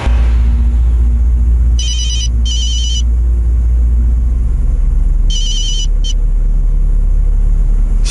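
An incoming call sets off a phone ringtone in two short bursts and then another two, sounding loudly over a constant low vehicle rumble, with nobody speaking.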